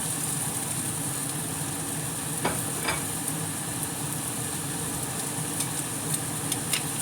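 Turkey sausage patties, a third of a pound each, sizzle steadily in a frying pan, a continuous close crackle with a few faint clicks and taps over it.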